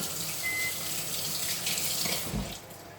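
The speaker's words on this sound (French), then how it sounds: "Hop, au compost et on se lave les mains." A kitchen tap runs steadily as hands are washed beneath it, a close, continuous splashing water stream that eases slightly toward the end, with no talking.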